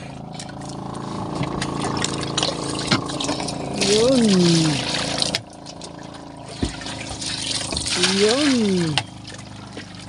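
Water is poured in a steady trickling stream, with brief spoken voices in a language other than English heard alongside it.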